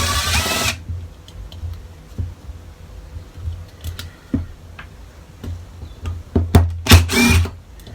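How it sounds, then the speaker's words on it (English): A power tool undoes screws on a Webasto Air Top diesel heater, opening with a short loud whirring burst. Scattered small clicks and taps of parts being handled follow, then a few louder knocks near the end. "So we've got some more screws to undo here."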